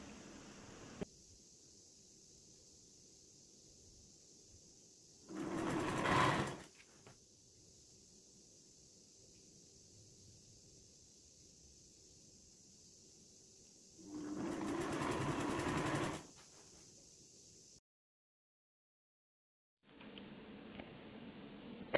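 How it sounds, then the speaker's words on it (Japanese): A sewing machine slowly stitches large patchwork quilt pieces together in two short, close bursts of fast whirring, separated by long, quiet gaps. "縫い合わせるもの同士が大きくなると生地の重みで引っ張られて縫いにくいですが、縫い代を噛み合わせながら最後までゆっくり縫います。"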